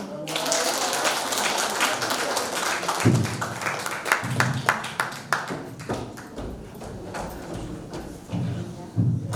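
An audience claps after a lecture, scattered taps and bursts of applause mixed with a voice speaking over them in a hall.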